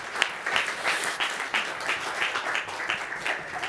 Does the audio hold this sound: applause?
yes